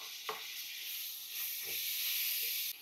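Steady, bright hiss of chopped tomatoes frying with turmeric and chilli powder for Tadipatri biryani, loud and continuous, with a few soft stirring knocks along the way.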